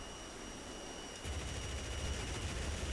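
A MiG-15bis in the DCS World video game fires its right-side cannon, a rapid, dense thudding burst that starts abruptly over a steady cockpit engine drone and continues to the end.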